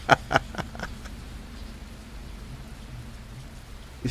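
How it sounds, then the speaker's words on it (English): Rain falls steadily outside a bus, a soft even hiss with a few sharper drop taps near the start, heard from inside the vehicle. "It still looks like rain."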